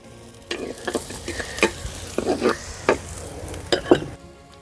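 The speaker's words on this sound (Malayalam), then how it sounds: "നമ്മുടെ ഈ ഇട്ടിരിക്കുന്ന ഇഞ്ചിയും പച്ചമുളകും വെളുത്തുള്ളിയും എല്ലാം കൂടെ ഒരു ഗോൾഡൻ ബ്രൗൺ ആകുന്നത് വരെ നമുക്ക് വെയിറ്റ് ചെയ്യാം" Ginger, green chilli and garlic with curry leaves frying in oil in a pan for a toddy-shop style fish curry: a close sizzle broken by several sharp scraping stirs of a spoon, no talking.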